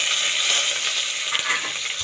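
Onions sizzle in hot oil for a mutton kulambu tempering with cinnamon, cloves, green chilli and curry leaves, a steady broadband frying hiss that runs unbroken and fairly loud, with slight stirring shifts and no talk.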